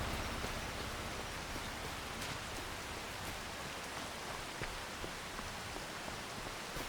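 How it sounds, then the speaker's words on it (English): Steady, dense rain pours down in the Farming Simulator 25 video game on a rice-farming map. The hiss is even and unbroken, with occasional sharper drop taps and no talking. "you'd think with the rain coming down"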